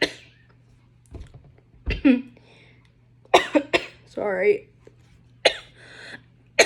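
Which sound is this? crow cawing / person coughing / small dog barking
person coughing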